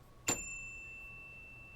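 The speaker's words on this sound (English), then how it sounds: "I'm going to ring my bell" A small hand bell rings once with a bright, clear strike, its pure tone lingering and slowly fading over a quiet background.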